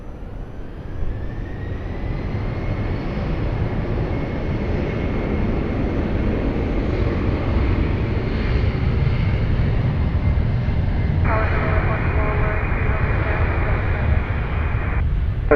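An airplane takes off from runway 20 at Lisbon Airport, its engine roar rising into a steady, loud, continuous drone that holds throughout, with a faint radio voice briefly heard.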